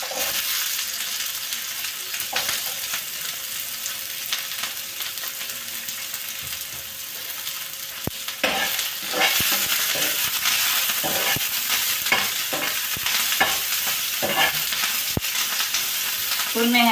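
Onion and green chilli frying in a pan over a wood-fired stove, a continuous hissing sizzle with scraping strokes of stirring that grow busier in the second half.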